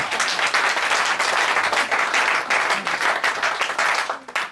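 Congregation in a church breaking into sustained applause, dense clapping from many hands filling the room steadily before tapering off at the end.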